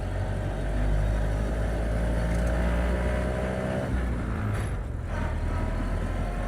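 A 1929 Ford Model A Roadster drives along with a loud, steady engine drone and road rumble that shifts pitch partway through, no voices heard.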